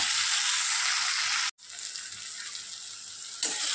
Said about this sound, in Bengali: পেঁয়াজ টমেটোটা খুব ভালো করে ভেজে নিয়ে